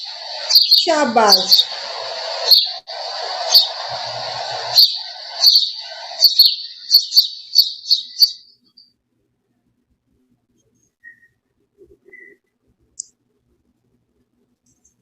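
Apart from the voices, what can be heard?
bird chirping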